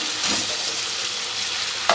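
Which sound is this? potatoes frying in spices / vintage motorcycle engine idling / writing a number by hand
potatoes frying in spices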